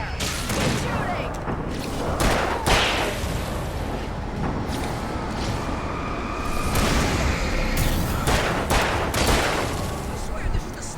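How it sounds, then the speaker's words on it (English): Gunshots in the Alan Wake video game: repeated sharp cracks and booms scattered across the whole stretch, loud and close, over dense rumbling game noise. "Reload this just in case. They're right there. Keep shooting."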